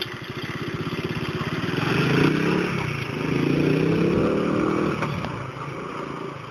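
A 1972 Honda CT70 four-speed motorcycle engine runs close by, a chugging, rapid putter that swells and eases with blips of the throttle, loud and alone without talk.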